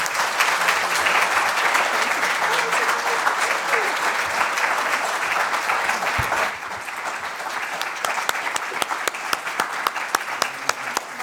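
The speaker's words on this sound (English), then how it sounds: "please join me in another round of applause for Shelagh" Sustained audience applause from a crowd at a public event, loud and steady with dense clapping throughout, thinning slightly toward the end into more distinct individual claps.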